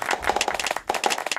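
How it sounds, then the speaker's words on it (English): A brief patter of clapping, a small group applauding steadily with quick irregular claps. "I really want to hear a round of applause from you."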